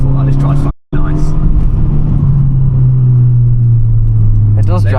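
Fiat 500 car driving along, a steady engine and road rumble inside the cabin that briefly cuts out near the start, with people chatting over it.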